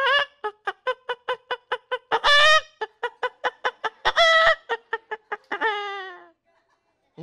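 A human voice imitates a hen cackling after laying an egg: a quick, steady run of short, clear clucks broken by two loud, drawn-out squawks, and a final long squawk before it stops.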